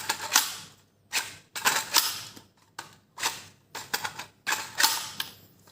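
Mechanical clicks and clacks from working the mag release on a ShanYe x MM Firefly magazine conversion kit, sharp near plastic-and-metal snaps coming in repeated bursts with short pauses between.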